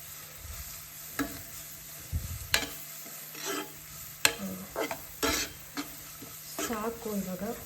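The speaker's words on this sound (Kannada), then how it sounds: "ಮೆಣಸಿನ್ಕಾಯಿ ಹಾಕ್ಕೊಂಡು ಅದೊಂದು 2 ಮಿನಿಟ್ಸ್ ಫ್ರೈ ಮಾಡಿ." Green chillies and chopped onion frying on low flame in a pan for egg bhurji, a soft sizzle broken by repeated scraping and stirring strokes of a spatula, close and fairly quiet with no talking.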